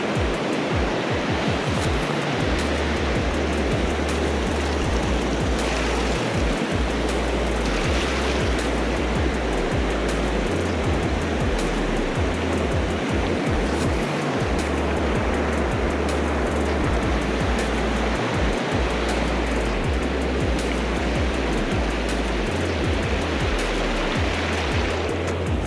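A Nevada river swollen by heavy spring snowmelt rushes past in a loud, unbroken roar of turbulent water, steady and close throughout with no voices.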